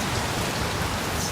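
Steady rain falls around cyclists sheltering under a bridge along the Erie Canal, a dense, even hiss of drops on surfaces with no pauses or voices.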